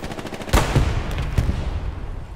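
Gunfire in the World War II shooter game Heroes & Generals, a loud close burst of rapid shots followed by a few scattered cracks with echoing tail.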